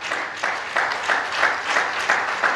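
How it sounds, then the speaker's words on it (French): A conference audience applauding at an entrepreneurship talk, steady close clapping with a rhythmic pulse, no voices over it. "J'ai pensé encore une fois que quelqu'un allait acclamer pour lui-même."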